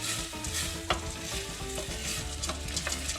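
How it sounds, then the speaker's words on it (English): Lentils toasting in a pot for homemade lentil soup with chicken, a continuous close sizzle with scraping stirs and light clicks of the spoon against the pot. "we toast the lentils as well, around a couple minutes"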